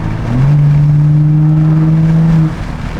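An Armfull car exhaust revving, a deep droning rumble that swells up, holds steady for about two seconds, then drops back to idle.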